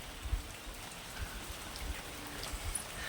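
Steady rain pours at night in a village, a dense, even hiss of drops striking surfaces, with occasional louder splashes and low thuds, and no voices.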